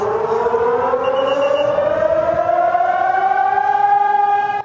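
A civil defense air raid siren wails during the Wan An drill. One long tone rises steadily and holds loud and sustained for several seconds before cutting off.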